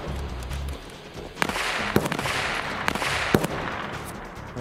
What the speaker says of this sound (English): That's someone else's gun.